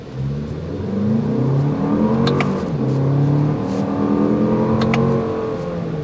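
A 2024 Toyota Grand Highlander Platinum SUV engine in sport mode revs and accelerates steadily, its exhaust note rising and falling in clear harmonic tones with a slight drone, fairly loud and close.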